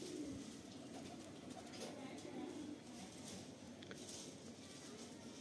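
A Rampuri pigeon coos quietly nearby, with low rolling murmurs near the start and a longer one in the middle, over a steady background hiss.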